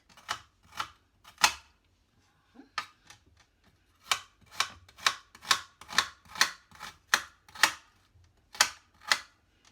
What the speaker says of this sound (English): So I'm going to just cut these up in small pieces like that.